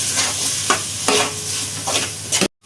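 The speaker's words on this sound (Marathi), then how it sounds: "टोमॅटो असं परतत राहायचं आहे।" Tomatoes sautéed and stirred with masala paste in a pot for vegetable pulao, giving a steady close sizzle broken by a few scraping stir strokes, then cutting off abruptly.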